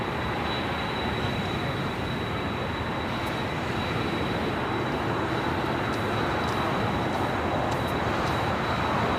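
A nine-year-old United Boeing 787-9 Dreamliner arrives at LAX on the south side from Newark, producing a loud, steady, broadband engine roar with a thin high tone running throughout.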